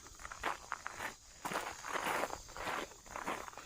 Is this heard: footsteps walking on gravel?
yes